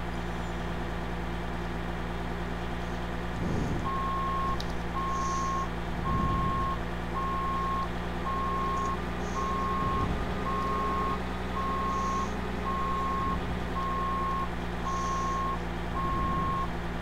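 A vehicle reversing in the video game Skiregion Simulator 2012 sounds a steady, evenly spaced series of high electronic beeps over a constant low engine drone, with faint periodic thumps and no talking.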